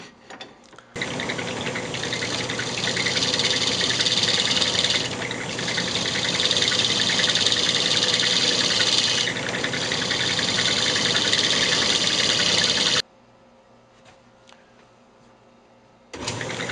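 A wooden piece spins on a lathe while a bowl gouge scoops out its base, a loud continuous motor hum and cutting drone that stops abruptly near the end, then resumes.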